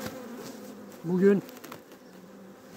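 Honey bees hum and buzz steadily around a hive as it is being closed, a soft continuous drone with a brief spoken word over it.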